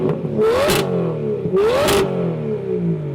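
Straight-piped BMW 760iL 7 Series V12 revving hard in two sharp blips, rising whine then falling, loud and close with rumbling idle between.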